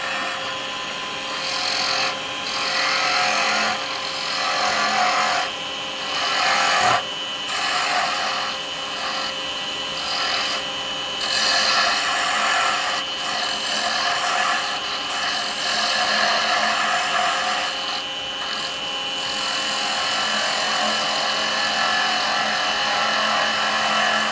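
A woodturning lathe spins while a chisel cuts and shapes a wooden pen blank, giving a loud continuous whirring hum with rough scraping bursts that rise and fall as the tool comes up against the wood.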